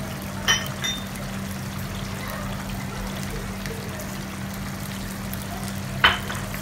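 Boneless masala with green chilli and kasuri methi cooks in a pan for a restaurant-style handi, giving a soft, steady sizzle with a couple of brief spoon scrapes near the start and end and no talk.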